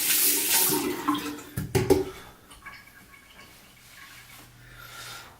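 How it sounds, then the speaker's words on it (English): Water from a tap runs over hands as they are rinsed after a shave, a steady splashing stream with a few louder sloshes midway before settling into a softer trickle. "Just rinse out the hands."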